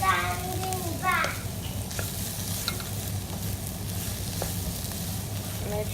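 Cauliflower rice stir-frying in a pan, a steady close sizzle with scraping stirs and occasional clinks of the utensil against the pan, loud and continuous, with no one speaking.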